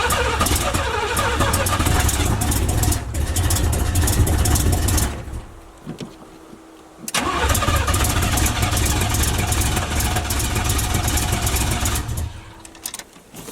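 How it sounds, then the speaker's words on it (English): A Chevy box car engine cranks repeatedly without starting, loud churning starter bursts with a short pause midway, then another long crank that trails off. "it don't want to crank up today for some reason"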